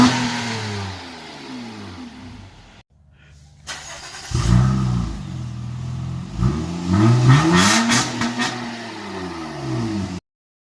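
A 2015 Honda Accord V6 with a Borla exhaust and deleted resonator revs loudly in several throttle blips, dropping briefly to a quiet idle before rising again in repeated climbing and falling sweeps, then cutting off.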